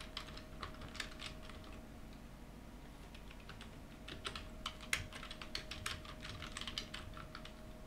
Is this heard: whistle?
no